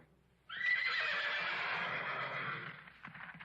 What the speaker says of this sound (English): the horses outside go crazy.